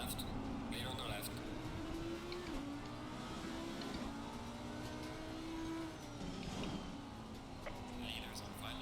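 A race car in a wet-weather practice race at Zandvoort in a racing sim holds a steady engine drone with gear-shift steps as another car runs alongside, under a low voice.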